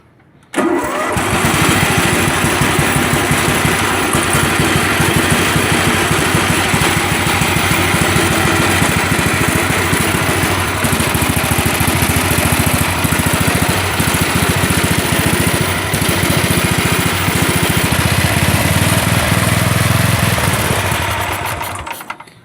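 A Massey Ferguson 8 Hydro garden tractor with hydrostatic drive runs its engine nearby, a loud, steady rumbling drone that holds for the whole stretch with no talking.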